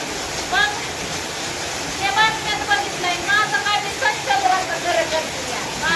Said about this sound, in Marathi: तर पाऊस चालू आहे सध्याच्याला पण